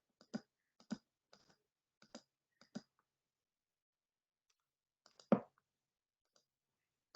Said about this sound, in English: I'm clicking on inside the boxes